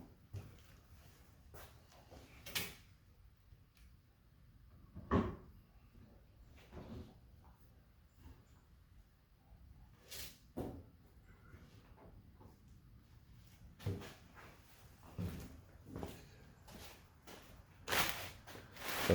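A glass door on a New Holland LX865 skid steer is set into place, with scattered knocks, thuds and bumps spread out over time, moderate and close.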